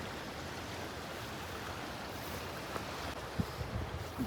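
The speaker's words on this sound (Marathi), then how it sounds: "बरोबर साईडला वाहणारं पाणी, आणि आम्ही त्या पाण्याच्या साईडला बसून मस्तपैकी कॉफी पितोय" Monsoon stream water flows beside a hillside near Kondeshwar Temple in Badlapur, making a steady close rushing wash with a few faint knocks near the end and no talking.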